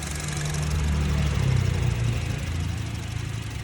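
A Honda City 1.5 automatic engine with about 88,000 miles idles smoothly and steadily, a low continuous rumble with a faint hum, close by and without talk.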